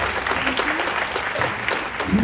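Audience applause and clapping fill a hall, steady and moderately loud throughout, with a speaker's voice faintly over it.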